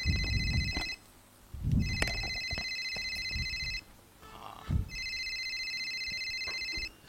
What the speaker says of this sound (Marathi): तो फोन वाजतोय हो